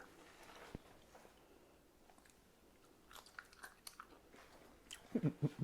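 Crunchy roast turkey skin being chewed up close, faint at first, then sharp crackling bites bursting loudly near the end.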